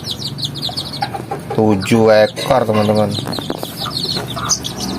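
Young Burgo chickens, farm-raised chicks, give shrill peeping calls and a few louder clucking bursts near the microphone, while someone speaks over them at intervals.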